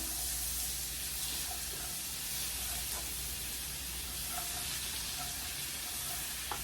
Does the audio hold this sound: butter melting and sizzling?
yes